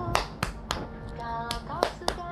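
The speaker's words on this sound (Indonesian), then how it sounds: "Tepuk tangan, tepuk tangan." Hands clapping while playing with a three-year-old, about seven sharp separate claps at an uneven pace, close and fairly loud, with a soft voice underneath.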